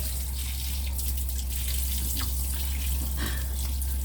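Fish being washed under running tap water, a steady close stream with splashing and small gushes as the fish is rinsed.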